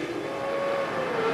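Formula One cars at the 2000 Hungarian Grand Prix start, a steady, fairly distant engine roar with a rising whine as the pack pulls away, no voices.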